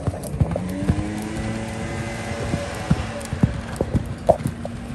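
A gaited walking horse cross-canters with irregular thudding hoofbeats, moderately near, under a low engine-like hum and a speaking voice.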